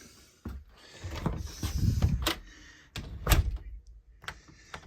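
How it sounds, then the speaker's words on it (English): A stiff, sticking door is worked open and shut several times, giving scraping drags and a few solid thunks and slams close by, with no voices. "I've been fighting with this door for the last 2 weeks."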